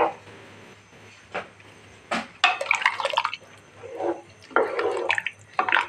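Water is poured into a cooking pot for masoor pulao in several separate splashing bursts, close and loud, with quiet pauses between pours.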